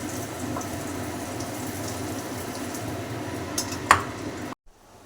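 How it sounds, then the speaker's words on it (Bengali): Pumpkin pieces frying in hot oil give a steady, dense sizzle with a few faint clinks near the end, then the sound cuts off abruptly. "মিষ্টি কুমড়োগুলো ভাজা হয়ে গেছে, এরকম লাল লাল করে ভেজে নেব, নামিয়ে নেব, তেল ঝরিয়ে নামিয়ে নেব"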